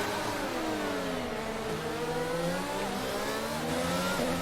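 An F1 car in the racing game F1 22 accelerating hard out of corners with wheelspin, its high-pitched engine note climbing steadily and loudly through the revs, close and continuous with no voices.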